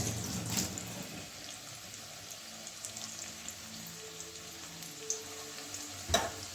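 Soft continuous sizzle of bottle gourd leaf and poppy seed fritters frying in oil, with occasional sharp clacks and scrapes of a utensil turning them.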